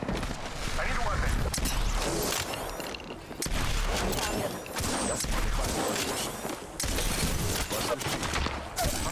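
Rapid, loud bursts of automatic gunfire from an online shooter video game crackle almost continuously, with brief gaps between volleys and heavy impacts mixed in.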